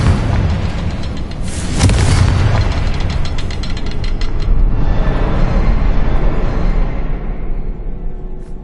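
A Confringo spell bursts in Hogwarts Legacy as a loud, booming explosion with a sharp crack near two seconds, then a long rumbling decay that fades out toward the end.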